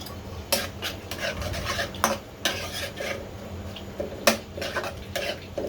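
Chopped onion fries in oil in a pot for pulao while a spoon stirs and scrapes against the metal in repeated sharp knocks, over a soft low sizzle, close up and with no talking.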